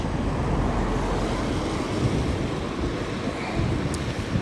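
Wind buffets the microphone on a bridge over the River Avon, a steady low roar with a faint wash of water or distant traffic beneath it and no talking.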